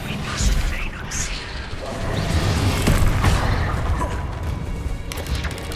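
A Depulso force spell is cast in a video game, giving booming, muffled thumps and blasts within a dense, noisy mix that swells and stays busy throughout.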